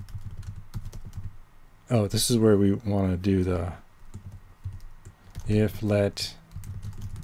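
Computer keyboard typing while programming in Rust, a soft patter of keystrokes through the quiet stretches, close and faint, with someone talking over parts of it.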